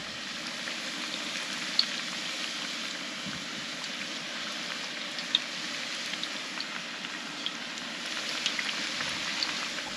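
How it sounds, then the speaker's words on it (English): Steady, even sizzle of food deep frying in hot oil over an open flame, a constant crackling hiss with occasional sharp pops, and no voices. "Now don't overcrowd the pan. I think we're deep frying."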